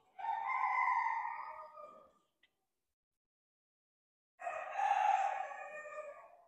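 Bantam rooster crowing at a poultry breed show, with two loud, close crows separated by a few seconds of quiet.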